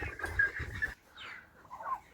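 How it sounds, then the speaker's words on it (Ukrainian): Broiler turkeys on a Ukrainian farm gobble and call in short bursts close by, one louder burst of clucking-like calls followed by quieter scattered calls, with no talk. "покажу вам ще своїх бройлерних індиків"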